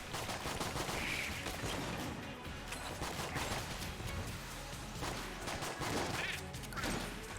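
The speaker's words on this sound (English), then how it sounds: "I think this bootleg pistol is modelled after the Magnum, so it might be worth using." Rapid gunfire from a bootleg pistol modeled after a Magnum in Enter the Gungeon, bursts of repeated shots and impacts amid busy game effects, fairly quiet overall.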